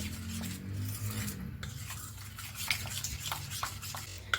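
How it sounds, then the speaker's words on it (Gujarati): Khaman dhokla batter being mixed with added flour in a bowl, giving a steady close rasping and rubbing scrape with a low hum underneath, continuous and fairly loud, with no voices. "આ રીતે આપણે તેને સરસ રીતે મિક્સ કરી લેવાનું છે।"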